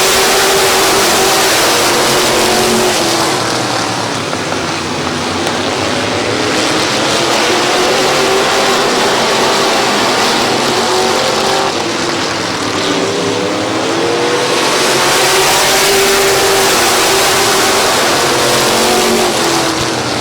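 Race cars at Midvale Speedway roar loudly and continuously as the field accelerates on a green-flag restart, engine noise swelling and fading as the pack passes.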